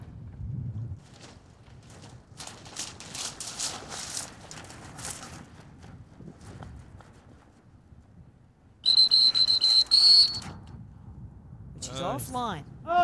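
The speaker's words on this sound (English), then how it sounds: "He had to burn a whistle there." A handler's sharp, loud whistle blast at a retriever dog field trial cuts in briefly over outdoor background noise and distant voices, followed by a few shorter chirpy whistle tones.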